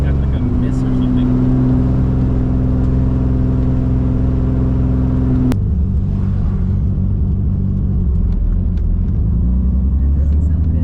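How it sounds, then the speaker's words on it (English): A Toyota Supra MK4 with a 76mm turbo rumbles loudly at a steady rev, then drops abruptly to a rougher, uneven idle partway through, with people talking over it. "It's like spattering. Yeah. Give it some more gas. Yeah, it's got like a miss or something."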